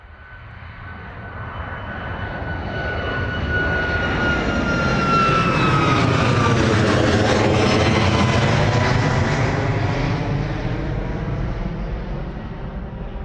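A jet airliner departs Bristol Airport, its engine roar swelling from distant to loud overhead and then slowly fading, with a steady broadband rumble and a high whine sliding downward as it passes.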